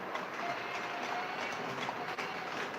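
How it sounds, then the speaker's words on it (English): A model train controlled by an app runs steadily, a continuous close whirring rumble with a faint clickety-clack texture and no pauses. "Here's our train."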